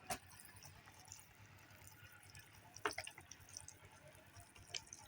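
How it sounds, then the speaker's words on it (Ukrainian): Water sprinkles from a bottle with holes onto soil being compacted beside a house foundation, a faint scattered patter of drips and small splashes, close and quiet, with no talking. "Тепер ось бутилочка з дірочками. І можна попроливати трошки."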